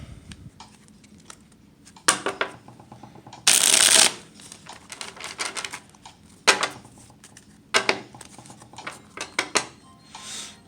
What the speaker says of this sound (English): I'm going to go ahead and shuffle it one more time.